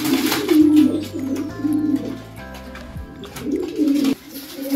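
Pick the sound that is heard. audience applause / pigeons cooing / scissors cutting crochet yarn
pigeons cooing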